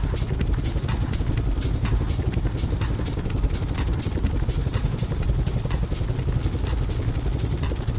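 A helicopter in the FlightGear flight simulator on a chopper tour over Sweden, giving a steady rotor thump and engine drone with a rhythmic blade chop that holds unbroken throughout.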